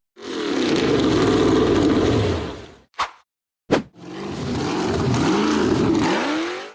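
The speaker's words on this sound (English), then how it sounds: "The silver-gray buggy accelerated straight up a steep, rocky dirt slope" An off-road buggy engine roars loudly as it climbs a steep rocky dirt slope, rising and falling revs cut by a couple of sharp bursts and brief silence before another strong revving surge, close and without speech.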